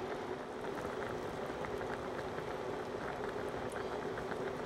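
Coca-Cola chicken simmers in a covered pan with oyster sauce, giving a steady bubbling sizzle and soft popping that continues evenly at close range.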